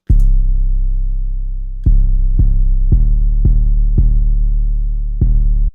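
Trimmed trap 808 bass pattern in FL Studio, one long booming low note followed by a quicker run of six punchy hits with clicky attacks, loud, deep and alone.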